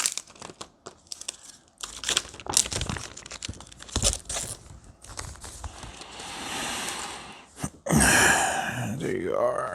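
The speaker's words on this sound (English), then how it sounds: "So let's peel off the stickers." Protective stickers being peeled off a new Samsung Galaxy Z Fold 3 5G produce close, crinkly rustles and sharp tearing crackles in bursts, with a voice audible among them and a longer ripping peel near the end.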